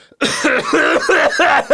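A person coughing several times in a quick, close and loud burst, followed by a throat-clearing sort of hack.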